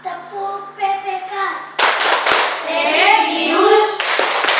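A voice chants alongside sharp, bursty claps in a classroom Tepuk PPK clapping routine, the clapping near and loud, punctuating the spoken chant in quick clusters.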